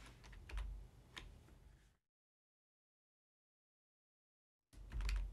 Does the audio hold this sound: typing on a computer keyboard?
yes